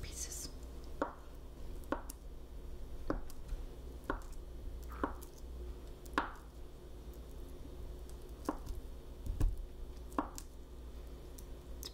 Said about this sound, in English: This is half a cup of butter. One bar, one stick. And I'm gonna cut it into smaller pieces.